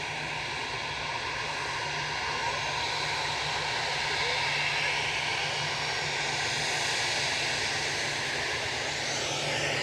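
An EasyJet Airbus A319, sixteen years old, departing Manchester Airport, its jet engines a steady, loud roar with broadband hiss that holds throughout, while someone talks over it.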